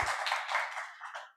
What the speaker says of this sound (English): Let's give Gregory a round of applause for his insights.